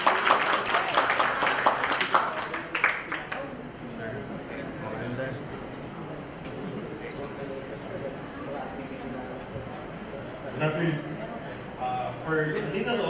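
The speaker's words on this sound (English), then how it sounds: "Let's give him a round of applause." Applause from an audience at a 2019 technology spin-off launch event, a dense broadband patter strongest in the first few seconds, then thinning to scattered claps and murmuring voices, with renewed bursts near the end.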